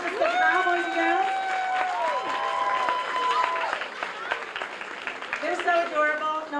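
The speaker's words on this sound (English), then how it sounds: "a round of applause for the Proud Boys and Girls" Elementary school children performers at a Celebration of Nations event get a round of applause: crowd clapping and cheering run throughout under a loud, melodic voice on the microphone.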